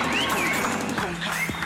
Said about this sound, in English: A big round of applause, ladies and gentlemen, for Ignatius Mutale